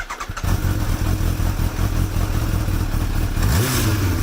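A Kawasaki H2 motorcycle engine starts and settles into a loud, close, throbbing idle, then revs up sharply near the end, the pitch climbing quickly.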